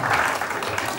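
Brief burst of audience applause at a children's stage magic show, a dense wash of clapping from a studio crowd lasting about a second.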